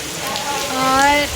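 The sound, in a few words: rain falling outside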